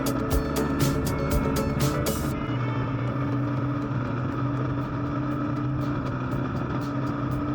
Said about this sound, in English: we fire up our engines and roll out onto the Santa Rosa South Expressway